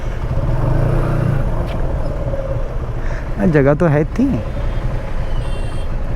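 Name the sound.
traffic of cars and trucks near Jageshwar Dham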